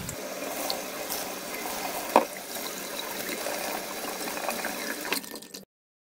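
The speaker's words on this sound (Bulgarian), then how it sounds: "И така измиваме я под течаща студена вода." Cold tap water running over quinoa being rinsed in a kitchen, a steady splashing stream with a brief clatter partway through, cutting off abruptly near the end.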